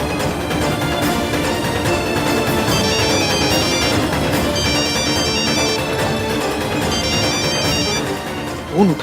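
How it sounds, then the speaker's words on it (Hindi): Phone ringtone playing loudly and steadily for about nine seconds with no answer, repeating a bright melodic pattern in a TV drama scene, with a brief thump near the end. "फोन ही नहीं उठा रही"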